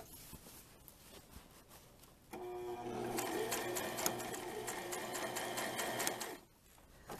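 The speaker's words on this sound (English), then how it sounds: "I'm sewing the eyelet all along the neck edge" A sewing machine runs in one continuous burst of rapid stitching, sewing eyelet along the neck edge of a dirndl blouse. It starts after a quiet pause, hums close and steady for about four seconds, then stops.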